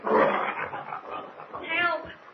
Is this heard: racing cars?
no